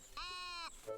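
A sheep in the cozy building game Tiny Glade lets out one clear, drawn-out bleat, close and loud, followed by a short softer call at the end.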